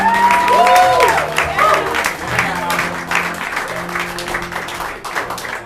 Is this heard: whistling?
no